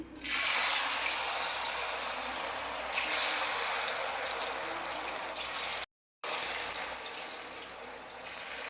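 Poha vadai (aval vadai) deep-fry in hot oil in a kadai, giving a loud, steady, close sizzling hiss that cuts out for a moment partway through and then carries on.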